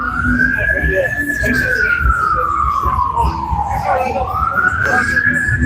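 An ambulance siren wails in one long sweeping tone that dips and rises again, fairly close and loud, over steady traffic and street noise on 6th Street in Austin, Texas.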